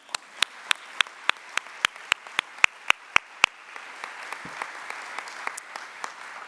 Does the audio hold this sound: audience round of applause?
yes